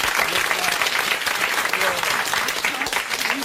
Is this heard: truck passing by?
no